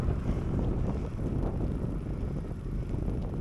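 Wind buffets and roars across a microphone, a steady loud rush while cycling along a road in Littlehampton, with no talking.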